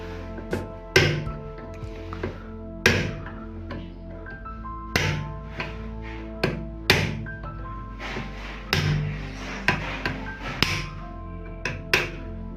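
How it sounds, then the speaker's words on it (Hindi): A steel screwdriver is struck against a blender's threaded coupling to loosen it, giving about a dozen sharp, close metallic taps at an irregular, unhurried pace, each with a short ringing tail. "तो ये मेरे पास पेचकस है, इसके साथ में इसको ज़रब लगाता हूँ"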